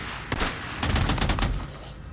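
A rapid burst of gunfire from the post-apocalyptic video game Days Gone, a short loud volley of overlapping shots that fills about a second, preceded by a single shot and fading into an ambient rumble.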